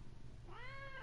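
A single drawn-out meow from a pet cat, close and clear, rising then falling, with only faint background hum around it.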